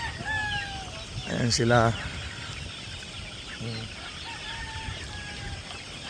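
Young chicks chirp and cluck around an outdoor feeding spot on a cold, rainy 6 a.m. morning, their calls brief and scattered, with one short burst of louder calling amid a voice speaking.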